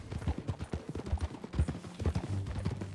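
A horse's hooves in Red Dead Redemption 2 clip-clop close by in a steady, rhythmic walking beat of soft, low thuds with no talk over them.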